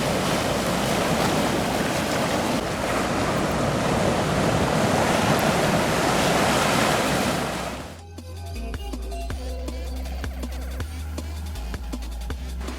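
Surf at Crystal Cove Beach in Laguna Beach, California, makes a loud, continuous roar of breaking waves with wind. The roar cuts off abruptly to a quieter, lower rush of water and wind.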